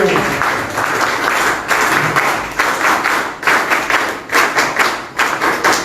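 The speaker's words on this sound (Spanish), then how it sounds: "pido un aplauso" Applause at a political event on public security proposals, loud nearby clapping from a crowd that swells in bursts, with sharp individual claps and thuds rising toward the end.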